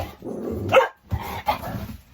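A giant dog barking up close, two loud, deep barks with a short growling edge, separated by a brief pause, indoors and with no talk.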